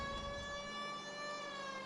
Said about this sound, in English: Let's keep the siren on.